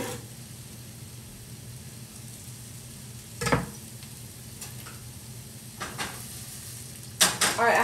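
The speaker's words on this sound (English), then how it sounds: "I'm gonna dump my onions and stuff in there first, okay? Let them hit the pan first." Onions and peppers fry in a pan on medium heat for vegan beef and broccoli: a steady close sizzle with a few clanks of utensil against pan.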